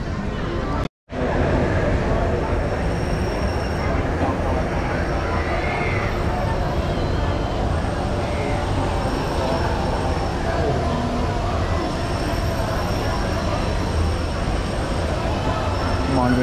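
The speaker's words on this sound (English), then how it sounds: "Monorail to downtown now" The Disneyland monorail runs with a continuous, loud rumble of wheels and motor noise, steady throughout after a brief cut near the start, with faint crowd chatter beneath.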